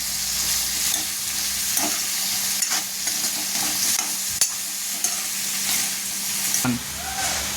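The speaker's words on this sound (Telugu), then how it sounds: "ఇప్పుడు అది కలుపుకొని కొంచెం బేక్ చేయాలి." A curry mixture for paneer butter masala fries loudly in a pan, a dense steady sizzle with occasional spoon scrapes and clicks as it is stirred, no voices.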